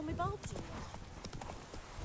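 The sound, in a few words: horse Roach trotting hooves in the video game The Witcher 3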